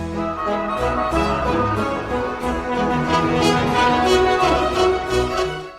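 The opening movement of Bach's Brandenburg Concerto No. 1 plays at full orchestral strength, with a busy bass line of rapid running notes beneath layered strings and winds, continuous and loud without speech.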